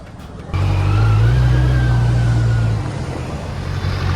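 A Kawasaki Z900 motorcycle engine roars loud and close as it pulls away, holding a steady low drone for about two seconds before easing to a lower idle-like rumble.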